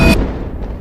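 A loud explosion sound effect for a plane crash: one heavy boom hits at once and cuts off, leaving a low rumbling tail for under a second.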